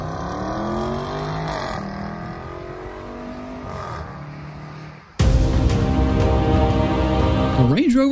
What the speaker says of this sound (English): his reaction to the 518 horsepower acceleration of this Range Rover Sport